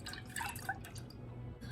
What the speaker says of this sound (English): I'm gonna pour this milk